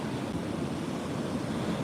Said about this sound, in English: Not sure a video is doing justice to how close those larger waves are.